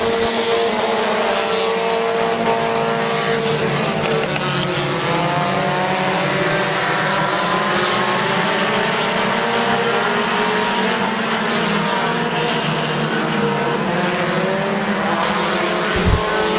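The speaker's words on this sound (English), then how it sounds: "So 15 lap race as McDonald now over the back bumper of Eich" Race cars roar continuously through a 15-lap feature at Midvale Speedway, the engine drone loud and close, rising and falling as the pack circles, with some tire squeal in the mix.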